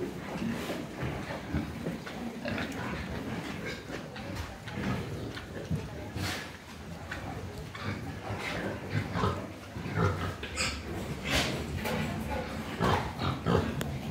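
Pigs on a pig farm grunt and oink in a dense, irregular stream of close snorts and squeals that fills the whole stretch, with no talking.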